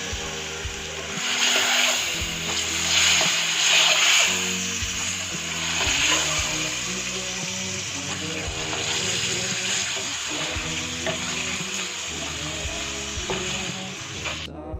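Small whole eggs and potatoes fry with greens in a pan for an egg and potato curry, giving a steady, fairly soft sizzle and bubbling that runs continuously without talk.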